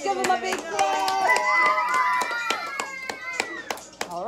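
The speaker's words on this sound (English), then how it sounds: "Let's give him a big clap." Sparse, uneven hand claps for a boy posing in cool new sneakers at a children's fashion show, sounding close over cheering voices and tonal background sound.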